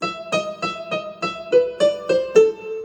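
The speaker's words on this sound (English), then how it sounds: "If I wanted to play that staccato, it would sound like this" Piano notes struck staccato, short and detached, about ten evenly spaced plucks in a quick steady rhythm, alone and fairly close.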